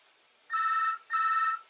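Two bursts of an electronic telephone ring, each about half a second, separated by a short gap; clear, fairly close, no voices.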